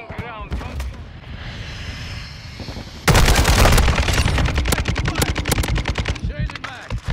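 RPK machine gun firing in Modern Warfare II, rapid bursts of loud automatic gunfire, a quieter stretch first and then a sustained close burst, with a voice talking over the shots.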